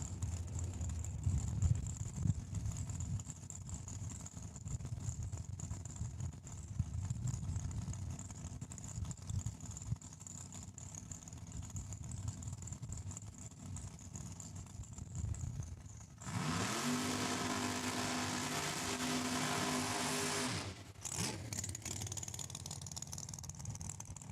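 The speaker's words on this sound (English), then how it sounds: "Underneath the tower sounds like a beautiful 69 Chevy Camaro" A 1969 Chevy Camaro race car engine at Saskatchewan International Raceway testing day, a steady mechanical drone running beneath a louder broadband roar that swells for a few seconds near the end.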